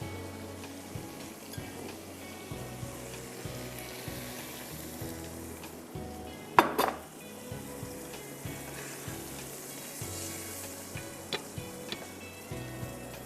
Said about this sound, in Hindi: और इसमें मैं ज़रा सा पानी डालूँगी, ज़्यादा नहीं।